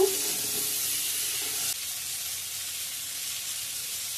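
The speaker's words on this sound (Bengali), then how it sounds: "হলুদ গুঁড়ো, ভালো করে ভেজে নেব।" Turmeric powder frying in a pan with salt, a steady hissing sizzle throughout, close and even, with a slight drop in intensity partway and no talk.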